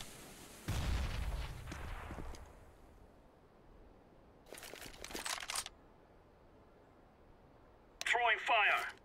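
Grenade explosion in Counter-Strike: Global Offensive, a heavy low boom with a trailing rumble, followed later by quieter crackling bursts and a brief voice-like radio call.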